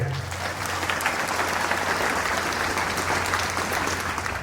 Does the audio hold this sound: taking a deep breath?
no